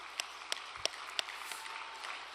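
Faint applause from a religious gathering honoring True Mother, a soft distant patter of clapping with a few sharper individual claps standing out.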